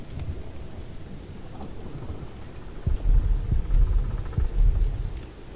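Storm in the video game The Pillars of the Earth: steady heavy rain with deep rolling thunder rumbling up midway and swelling in repeated low surges.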